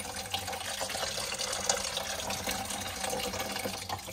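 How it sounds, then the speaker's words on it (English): Water from a house's plumbing draining out of a disconnected pipe union into a bucket during a tankless water heater installation, a continuous fairly loud splashing rush that holds steady throughout with no talking. "draining down the rest of the water that was in the house now"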